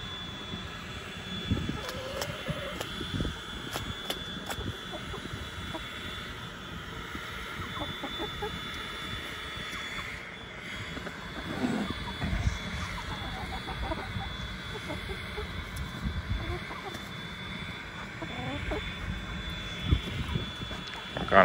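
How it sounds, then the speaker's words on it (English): Several chickens clucking close by, with soft, intermittent clucks over a steady background drone that may be an aircraft, and no talking. "Oh my gosh, I got 5 chickens on me."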